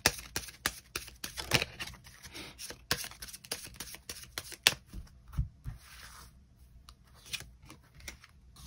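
Tarot cards being shuffled by hand, heard as a rapid series of crisp, close riffling clicks and flutters in irregular bursts, quiet and alone.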